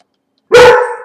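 A pet dog gives one sudden, loud bark nearby after half a second of silence, and the sharp bark trails off slowly, with no talking over it.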